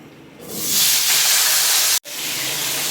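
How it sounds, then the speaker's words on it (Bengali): Potatoes and eggplant hit hot oil seasoned with black cumin for a hilsa curry, bursting into a loud, close, sustained hiss that cuts out for an instant and then carries on. "এখন আলু আর বেগুনগুলো দিয়ে দেবো"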